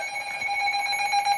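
An EAS emergency alert activation tone sounds as a steady, piercing two-tone electronic beep, loud and uninterrupted for the whole moment.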